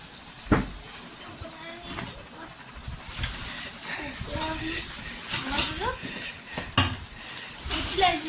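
Metal pots, pans and dishes, including a nonstick dosa pan, clatter and clink repeatedly while people talk nearby in a village kitchen, with a steady hiss in the background.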